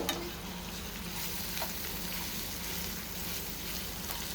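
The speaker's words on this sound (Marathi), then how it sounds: "हा म्हणजे डाळ सगळ्या ठिकाणाहून चांगली भाजली जाईल." Dal roasting and being stirred in a pan at home, a steady close sizzle and dry frying crackle with scraping stirs throughout, no voices.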